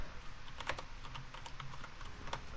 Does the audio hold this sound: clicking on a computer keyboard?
yes